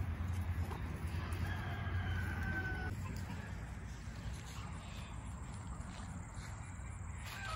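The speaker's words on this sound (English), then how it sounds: "Look at all those chickens." A flock of chickens on a farm in Lehigh County clucking and murmuring continuously, with a rooster-like call early on, under a steady background hum.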